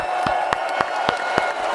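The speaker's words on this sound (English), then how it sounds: "let's give a round of applause for real this time" A small round of applause on a talk show: a few distinct, evenly spaced hand claps ring out sharply over a steady background tone.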